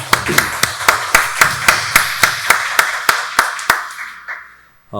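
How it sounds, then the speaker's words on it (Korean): A church congregation claps in unison in a steady, fast, loud rhythm of sharp hand claps, then the clapping fades into a brief quiet. "박수로 하나님께 영광 돌리겠습니다"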